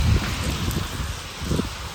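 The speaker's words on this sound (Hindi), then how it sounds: "ऐसी ज़बरदस्त किस्म की बारिश शुरू हुई है" Heavy stormy rain pouring down in a rural Pakistani village, a steady dense hiss with scattered louder drops and low rumbling gusts, with no voices.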